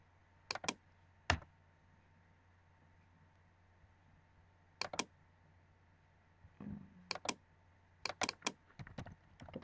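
Scattered keystrokes on a computer keyboard, a few isolated taps followed by quicker bursts near the end, fairly faint against a steady low hum in a quiet room.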